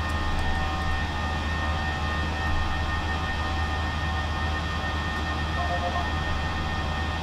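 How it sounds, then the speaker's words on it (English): Steady airliner cabin and engine drone from the Prepar3d flight simulator, a constant broadband rumble with a low hum and faint high whine, continuous and unchanging with no voices. "I need to turn these airplane sounds down hardcore"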